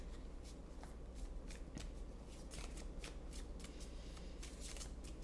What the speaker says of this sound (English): I'll give it a good shuffle here.